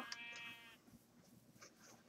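A Minecraft sheep gives a short, quiet bleat at the start, followed by faint low background game ambience.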